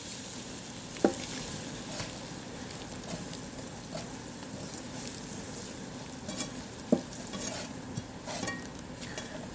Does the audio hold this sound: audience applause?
no